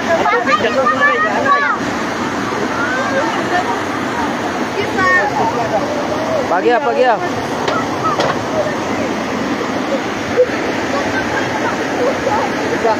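Floodwater rushing in a steady broadband roar, with houses nearby being swept into the flood; it runs continuously throughout while several people talk and exclaim over it.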